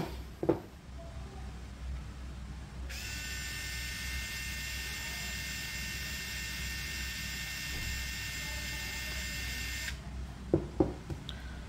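A Ronix 8591 cordless screwdriver whirs at a steady high pitch for about seven seconds during an RPM test, starting and stopping abruptly, with faint clicks and handling sounds before and after in a quiet room.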